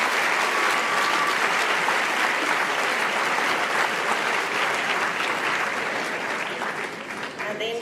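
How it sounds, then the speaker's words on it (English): An audience at a school capping ceremony claps in a dense, sustained wash of applause that stays loud for most of the clip before thinning slightly toward the end. "Let's give them a round of applause."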